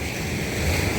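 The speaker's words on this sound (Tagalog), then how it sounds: "Kasi bukod sa maganda yung alon, malinis yung dagat." Surf washes onto a beach at San Fabian, Pangasinan as a steady broadband roar. Wind buffets the microphone, and no voices are heard.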